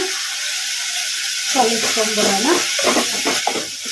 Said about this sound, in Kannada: ಕಲಿಸ್ಕೊಂಡ್ಬಿಡೋಣ ಮೀಡಿಯಮ್ ಫ್ಲೇಮಲ್ಲಿ